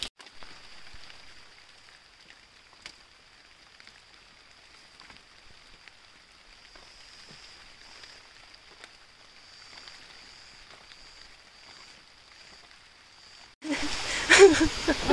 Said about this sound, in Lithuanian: Kretoje rugpjūčio mėnesį lyja